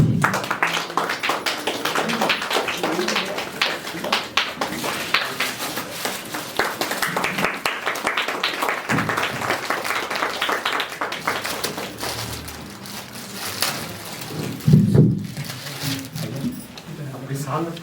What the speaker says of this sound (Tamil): எல்லாம் கரங்களை தட்டுவோம்.